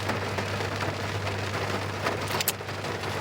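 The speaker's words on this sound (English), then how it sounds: "It got real rainy upon our arrival." Rain falling at Glacier National Park, a steady close patter of drops on surfaces with a low constant hum beneath, no voices.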